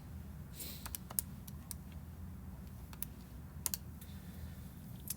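Numbers being keyed into a calculator during an algebra lesson: a quiet, irregular series of light clicks and taps over a soft steady background hum, with no talking.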